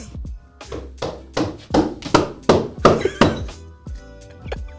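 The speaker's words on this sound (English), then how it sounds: "knock on the fridge" Hollow thumps of knocking on a kitchen fridge, roughly a dozen blows in an uneven rhythm, some loud and close, with faint background noise between strikes.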